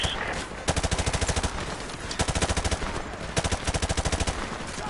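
Automatic gunfire in the video game Call of Duty Modern Warfare, rattling in repeated rapid bursts of about a dozen shots each, loud and close, with soft game noise between bursts.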